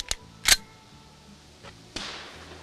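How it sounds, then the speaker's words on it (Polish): Sharp gunshots at a metal target on a shooting range at a seniors' sports event, a few crisp cracks close by with a brief ringing tail and short gaps between shots. "Strzelamy do celu metalowego."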